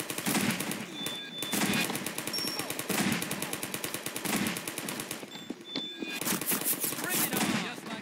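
A ceiling turret in the video game Garry's Mod fires rapid, evenly spaced automatic bursts almost nonstop, loud and close, with a voice briefly heard among the shots.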